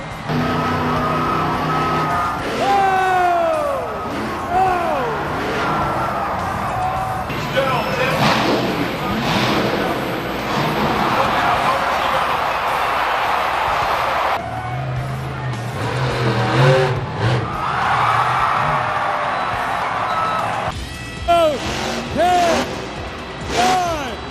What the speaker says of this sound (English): I think he's going for the donut